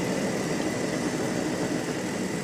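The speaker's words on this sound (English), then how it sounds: "this is with the 2-stroke engines. You hear them firing up on the grids" Two-stroke Rotax Micro-Mini Max kart engines run on the grid at the Canadian Karting Championship, a steady, dense mechanical drone holding at a constant loud level with no voices.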